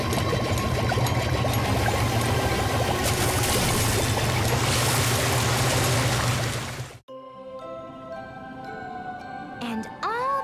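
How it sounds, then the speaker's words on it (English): In a Strawberry Shortcake cartoon, a fountain sprays water and wind blows as a loud, dense, steady hiss for about seven seconds. It cuts off abruptly and gives way to soft chiming musical tones. "the fountain sprayed and sprayed, and the wind blew and blew"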